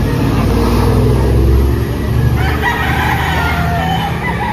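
Roosters and chickens crow and cluck at a bustling chicken market in Lipa, Batangas, mixed into loud background noise with a passing engine rumble.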